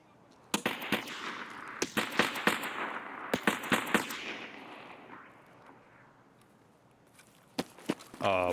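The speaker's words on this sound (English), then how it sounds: "What are those guns, Tower?" Gunfire in the video game Escape from Tarkov rings out as several sharp, distant cracking bursts with long echoing tails, followed by a quieter stretch and a few more isolated shots.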